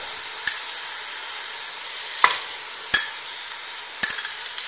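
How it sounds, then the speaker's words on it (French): Meat and onions fry in a pan with a steady sizzle, broken by four sharp knocks of a utensil stirring against the pan, close and clear, with no talking. "Et je fais colorer ma viande et mes oignons dans ce mélange en remuant de temps en temps"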